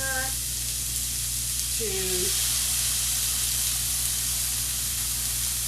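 Apple cider vinegar hitting a hot pan, giving a steady, loud sizzle and hiss that fills the whole clip up close, with a brief bit of speech near the start.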